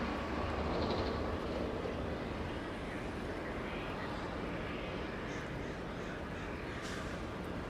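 An Air Canada airplane taxis at Los Angeles International Airport, its engines giving a steady, fairly loud broadband roar that holds constant throughout.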